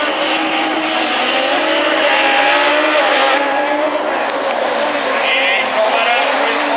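Super 1600 rallycross race cars at Châteauroux roar together in a dense, loud, continuous engine wail with shifting revs and tire noise, sustained throughout with no pauses.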